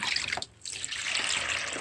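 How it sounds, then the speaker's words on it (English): Water pours steadily through a potted Vanda orchid, a continuous rushing splash that breaks off briefly and then resumes at an even level, close and fairly loud, with no talking. "pour water through it."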